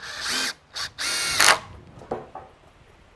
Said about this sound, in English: So I'm just using some GRK screws, and we're gonna screw these all together